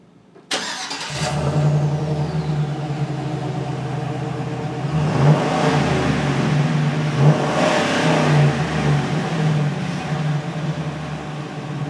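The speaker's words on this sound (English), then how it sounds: "I'll fire up the Chevy." A 2017 Chevy HD work truck engine cranks and fires with a sudden burst, then settles into a low, rumbling idle close by, with a couple of swells as the engine revs slightly over about eleven seconds.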